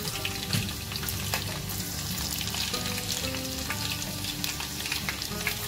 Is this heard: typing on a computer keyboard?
no